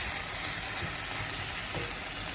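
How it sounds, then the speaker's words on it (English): Vegan prepared meal frying in a pan on low heat, giving a steady, close, dense sizzle that holds evenly throughout with no voices. "I got this on a low heat, so I'm surprised it's sizzling so much."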